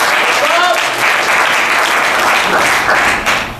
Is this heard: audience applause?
yes